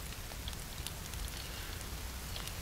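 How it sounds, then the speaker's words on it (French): Steady rain in the survival video game The Forest patters softly and evenly, a faint continuous hiss of drops with no voices over it. "On entend un peu le bruit de la pluie."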